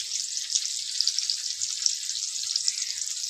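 Onion and green chillies with capsicum sizzling in oil in a pan for an okra (bhindi) dish, a steady bright crackling fry heard close, alone without talk.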